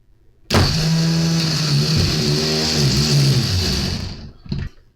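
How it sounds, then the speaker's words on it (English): A snowblower's electric starter motor, grounded and fed positive power on a bench, whirs up abruptly and spins with a steady, loud, close whine for about four seconds before cutting off, with no talk. "you could test a starter is simply by grounding the starter with the ground thing and then just putting the positive to it"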